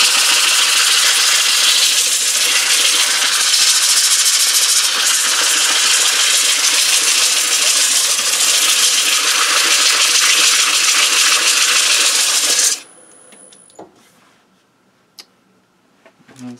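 Sandpaper is pressed against a very wet poplar fruit bowl spinning on a woodturning lathe, a loud, steady broadband whir and rasp for about thirteen seconds that cuts off abruptly, leaving faint clicks and handling noise.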